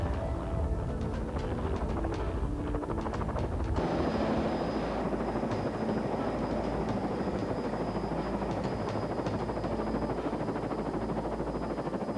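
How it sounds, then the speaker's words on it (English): A helicopter flies through strong southeast trade winds over the Starcke area, with a loud, close rotor chop and engine drone buffeted by rushing wind noise throughout. "our chopper was literally being blown around the sky."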